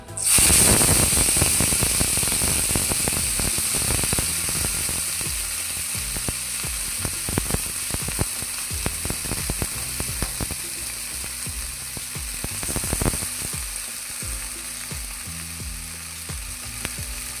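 Taro and cauliflower vegetables hit a hot pan with a loud burst of sizzling frying that settles into a steady crackle, with scattered clatters of stirring throughout.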